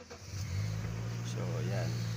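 A car engine in a workshop setting, on a vehicle with a check-engine warning and weak air conditioning, catches and settles into a steady, fairly loud idle hum over about two seconds.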